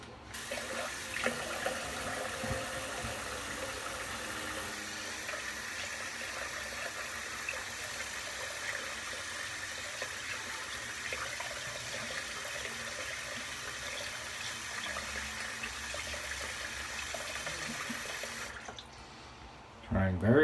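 Tap water runs steadily while a straight razor is rinsed at a sink, a constant splashing hiss that carries on for most of the stretch before cutting off near the end, with a voice talking over it.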